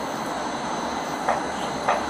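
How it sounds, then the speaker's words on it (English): A light rail train rumbles along steadily with broadband running noise, with two brief brighter squeals or clatters from the wheels on the track. "This is the train to West Side Avenue."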